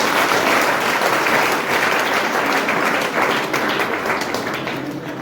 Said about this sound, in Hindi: आप अपने क्लाइंट के लिए जोरदार तालियों से स्वागत करेंगे